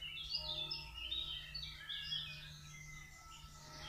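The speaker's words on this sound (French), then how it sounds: "Les oiseaux sont déchaînés, hein." Wild birds sing outdoors in a busy chorus of high chirps and warbling trills, moderately close, over a steady low hum.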